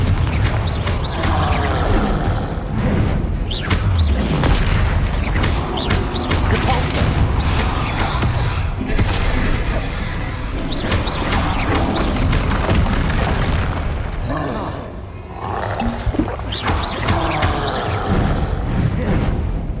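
Fire spell explosions and combat in the video game Hogwarts Legacy, with repeated loud booms and crashing impacts layered over a dense, continuous battle din, staying loud throughout with brief lulls.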